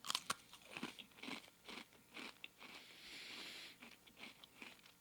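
Someone bites and chews a Toffee Crunch Oreo chocolate cookie up close, giving a series of crisp, quiet crunches and crackles with no talking.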